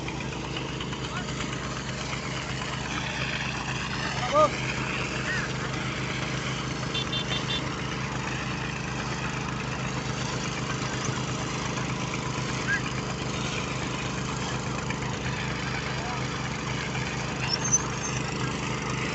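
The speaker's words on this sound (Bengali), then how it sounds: "এটা মোটরসাইকেল ইঞ্জিন" A petrol-powered irrigation water pump driven by a motorcycle engine runs at a steady, vibrating idle-like drone, with a couple of brief clicks. Someone talks over the engine throughout.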